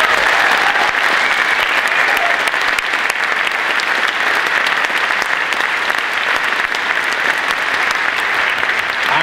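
Audience applause at an Iowa talk on source water protection, dense and loud sustained clapping filling the whole stretch without letting up.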